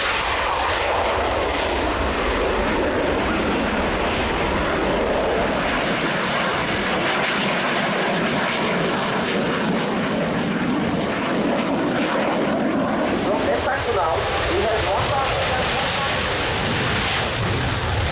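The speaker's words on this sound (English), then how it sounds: "for takeoff then, another of the contributions from the world's aerospace manufacturers" A fixed-wing aircraft roars loudly and continuously during takeoff at the Royal International Air Tattoo airshow, a broad engine rumble swelling and shifting over time.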